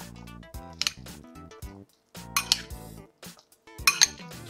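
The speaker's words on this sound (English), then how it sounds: "let's scoop some of our noodles up on there" Utensils clink and scrape against a plate and pan as noodles are scooped up, a few bright metallic taps and clatters in short bursts with quiet gaps between, close and fairly loud.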